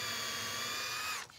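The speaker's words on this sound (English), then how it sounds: "So drilling this hole with a piece of timber behind will stop any breakout" A power drill bores a hole through timber with a backing piece behind, a steady high whine for about a second before it winds down and stops, close and alone.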